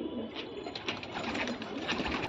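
Pairs of pigeons, including Madrasi breeds, coo softly and continuously at close range in a loft, their throaty calls overlapping.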